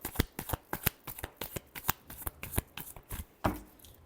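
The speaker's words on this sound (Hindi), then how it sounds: "Last shuffle." Tarot cards shuffled by hand in a quick run of crisp riffling flicks, close and fairly quiet, ending in a fuller final shuffle.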